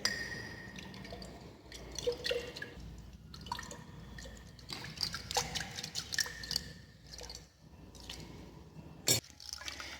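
Sodium sulfate salt is added a little at a time to water in a container that is shaken to mix it, giving faint sloshing, soft drips and light glassy clinks in a quiet room, with one sharper knock near the end.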